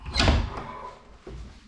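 Half of a door being put back in place during a house renovation, heard as a sharp clattering knock followed by a softer thud, close and brief.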